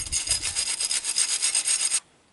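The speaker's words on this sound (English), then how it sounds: "So I've got this cradled in my lap here to wire brush the heck out of this" A wire brush scrubs corrosion off an aluminum headlight housing from a Mercedes-Benz W116 in quick, rhythmic, close back-and-forth rasping strokes for about two seconds, then stops.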